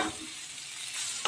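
Spice masala sautéing in a pan for a green cauliflower curry, a brief soft sizzle with a stirring scrape at the start and a clink at the end.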